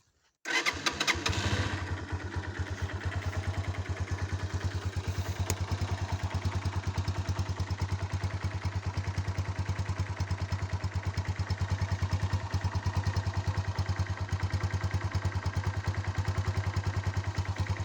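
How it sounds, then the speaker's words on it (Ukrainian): A Loncin JL150-68 CR1 150cc motorcycle engine with ten thousand km on it cranks briefly on its electric starter, catches, and settles into a steady, close idle that runs unbroken. "Мотоцикл заводиться із стартера. Ось так, зараз я вам заведу, покажу."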